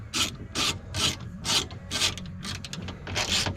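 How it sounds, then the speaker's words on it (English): The window of a 2004 Chevrolet Silverado rolls up on a freshly installed regulator. It makes a rhythmic series of close, raspy, grinding mechanical strokes, about eight in a row, with nothing else heard. "We need to very carefully roll the window all the way up"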